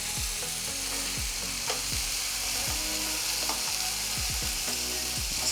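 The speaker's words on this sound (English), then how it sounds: "The meat needs to cook for about 7 to 10 minutes" Steak sizzles and fries steadily in a hot pan, a dense continuous crackle with occasional sharper pops and scraping stirs, close and fairly loud with no voices.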